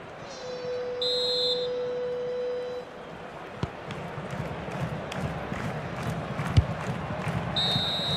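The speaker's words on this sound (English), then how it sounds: "So the whistle then, we're at the halfway stage in this match." A referee's whistle blows in the FC 26 football video game at half-time of a World Cup 2026 match between Canada and South Africa. It gives two short, shrill blasts over steady crowd noise from the stadium.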